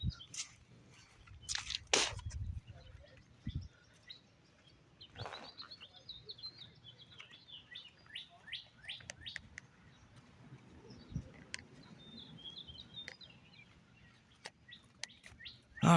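Small birds chirp and tweet in scattered, bright calls outdoors, some close and some farther off, over a quiet background with a few soft knocks.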